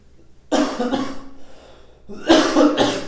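Two bouts of harsh, close coughing, each a few rough hacks, separated by a short quiet pause.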